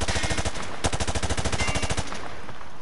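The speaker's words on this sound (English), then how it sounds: "He sprayed bullets all over the damn place" Automatic gunfire sprayed from the hip in a video game, a rapid, even burst of about twenty loud close shots lasting around two seconds, then a short fading tail.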